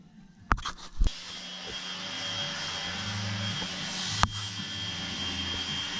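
A power drill bores out a bolt hole for a headlight vacuum actuator mount on a 1982 Corvette. After a couple of sharp knocks it settles into a steady, close, high whine with one more clunk partway through.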